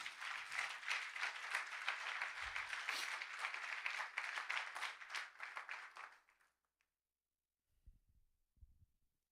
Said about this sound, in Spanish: ¿Vas a aplaudir o no vas a aplaudir?